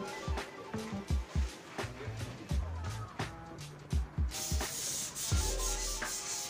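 Rhythmic scraping of sandpaper rubbing back and forth on teak wood, close up, with repeated strokes and a brief burst of hiss partway through.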